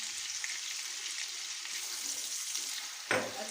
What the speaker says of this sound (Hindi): अच्छी तरह इसको भी हम भून लेंगे, ताकि जो लहसुन की स्मेल है वो ख़त्म हो जाए।